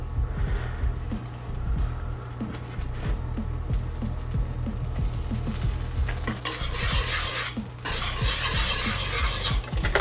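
Parmesan is stirred into a garlic Alfredo sauce in a pan over low heat, giving a steady, rhythmic scrape and soft bubbling simmer, close and fairly quiet, with no talking.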